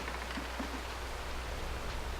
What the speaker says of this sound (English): It is rainy.